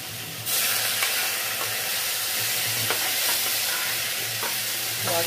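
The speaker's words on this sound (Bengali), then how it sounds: "এখানে নেড়ে দিলাম" Carrot masoor dal being stirred in a pot: a steady soft sizzle and hiss runs throughout, with a few light scraping strokes of the spoon audible close up and no talking.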